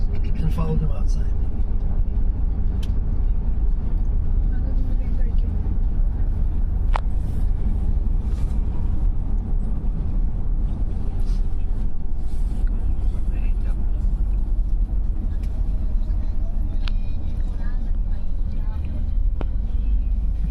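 A tour bus rumbles steadily along as it arrives in Edam, its low engine drone continuous throughout, with voices talking over it.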